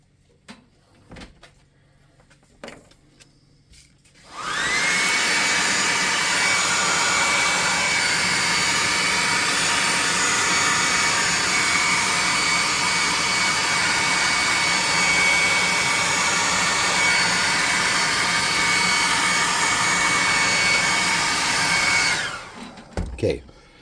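Handheld dryer blowing air over a freshly painted tabletop miniature, a loud steady whooshing hiss that starts abruptly after a few quiet seconds of faint handling sounds, runs evenly for nearly twenty seconds, then cuts off.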